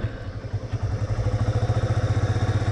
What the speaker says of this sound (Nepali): हेरौँ बाइकले तान्छ तान्दैन होइन